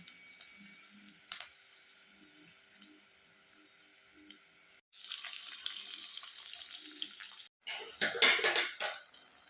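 Fish being rinsed and cleaned in water for a Tamil fish curry, with running tap water, splashing and clinking of a pan or bowl, quiet at first then louder splashing bursts toward the end.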